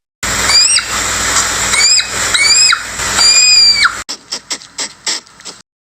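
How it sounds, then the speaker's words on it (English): A hedgehog gives a run of shrill, high-pitched squeals up close, then breaks into a series of short, sharp clicking snuffles before going quiet. "Hedgehog."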